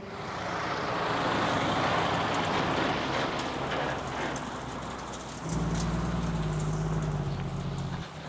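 A Flowboy trailer truck rolls down a road at a paving job, its engine a loud steady rumble throughout, with a heavier low drone rising and holding in the final seconds as it draws near.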